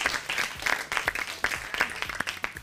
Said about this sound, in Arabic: صفقوا حق ثامر.